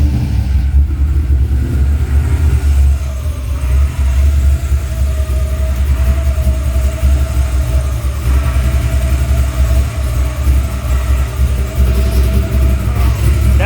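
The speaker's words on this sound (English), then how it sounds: "That exhaust sounds good." An LS-swapped Chevy C10 square-body pickup idles steadily after first start, its exhaust giving a deep, constant low rumble up close with slight fluctuations in tone, no talking over it.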